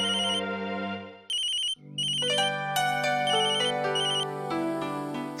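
A phone ringtone plays a repeating electronic melody, loud and alone, with a brief pause before the tune resumes, set in a home scene from a Hindi TV drama.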